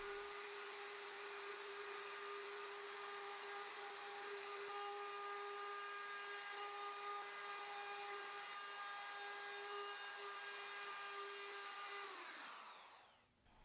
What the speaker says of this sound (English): To save some time, I'll only show 5 seconds of sanding.